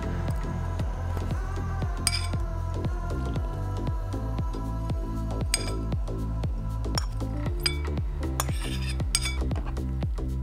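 Meat and vegetables tumbling into a pot for Korean doenjang jjigae, with a steady run of clinks and metallic knocks against the pot and utensils, close and fairly loud, no talking.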